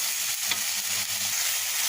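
Spice paste with tomato sauce fries in a pan while being stirred, a dense, even hiss of sizzling oil with faint scraping, steady and close for a couple of seconds.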